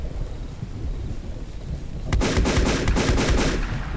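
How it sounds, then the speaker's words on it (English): Gunfire in the video game StreetRoyaleZ, a cluster of loud booming shots bursting in after a stretch of low rumbling background noise and then fading into a rough tail. "All the guns shoot the same, dude."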